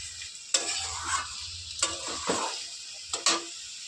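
Egg dhoka curry masala sizzling and frying in a pan, a soft steady hiss broken by a few sharp scraping stirs of a spoon against the pan.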